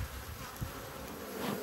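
Honey bees swarm and buzz around an opened backyard hive during a brood inspection, a steady close drone with a few louder passes near the microphone.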